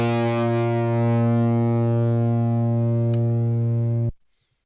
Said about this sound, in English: And that sounds like an electric guitar.